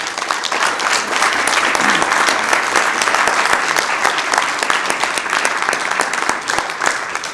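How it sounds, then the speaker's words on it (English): Loud, sustained applause fills a city council chamber, a dense steady roar of many hands clapping from a large crowd that continues without a break throughout. "So please give him a round of applause"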